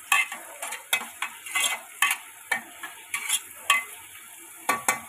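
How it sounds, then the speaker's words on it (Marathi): Cut tomatoes and onions fry in a pan and are stirred in quick, regular strokes, each scrape sounding clearly over a soft sizzle. "टमाटर टाकले मी 2 कट करून हलवून घ्यायचे।"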